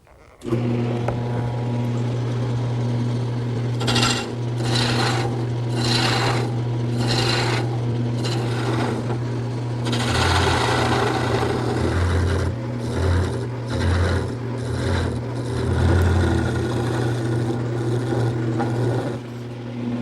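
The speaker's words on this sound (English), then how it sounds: "To make all the rest of the turnings, I'm going to use a variety of gouges and maybe even a scraper." Wood turning on a lathe with gouges and a scraper, shaping a small ball and beads for a quilt rack: a steady motor hum runs under repeated scraping, rasping bursts as the tool bites the spinning wood, close and continuous.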